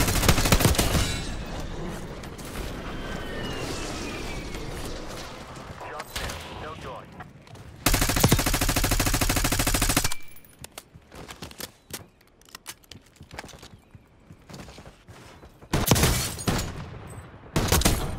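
Call of Duty Warzone gunfire on Rebirth Island, with Jackal PDW bursts and heavy clusters of rapid shots, then quieter stretches broken by sharp single cracks and short volleys, loud and close, with voices talking in places.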